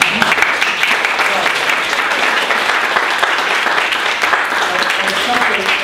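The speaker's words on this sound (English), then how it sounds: "So big round of applause." Loud, dense applause from an audience welcoming a speaker at a political group event, steady and continuous throughout with a faint voice underneath.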